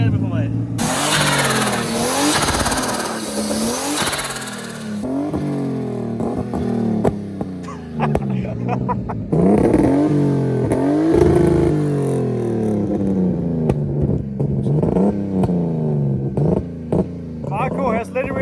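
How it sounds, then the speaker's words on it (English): A BMW E36 drift car fitted with a cheap eBay turbo kit revving repeatedly, the engine note rising and falling in loud sweeps, with people talking over it. "Marco has literally been revving this car for 3 hours here right now"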